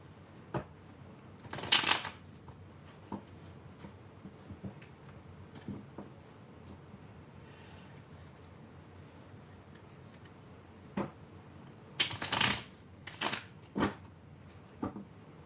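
A triple goddess tarot deck is shuffled close by, with several short, crisp riffling bursts separated by quiet pauses and light card taps.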